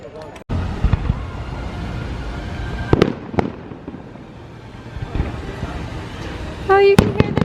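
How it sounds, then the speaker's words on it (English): Distant fireworks at Epcot thump and crackle in scattered bursts over a murmur of outdoor crowd noise and people talking nearby. "to see the fireworks from afar like this"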